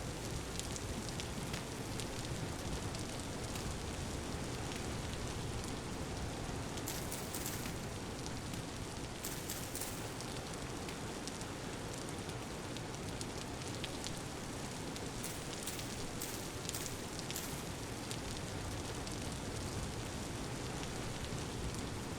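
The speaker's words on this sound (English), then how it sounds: "it's always raining" Steady rain pours without pause in the video game Vintage Story, a dense, even hiss of falling drops that fills the whole stretch, with occasional slightly sharper patters rising out of the wash and no voices.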